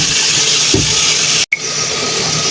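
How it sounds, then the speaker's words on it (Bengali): Potatoes, chopped onion and chillies frying in oil, a steady loud broadband hiss and sizzle that runs throughout, with one brief gap in the middle. "তেলের মধ্যে আলু পেঁয়াজ কুচি দিয়ে রান্নাটা করে নেব এবং মরিচ দিয়েছি পাঁচ থেকে ছয়টা একটু বাদামি কালার করে ভেজে নেব"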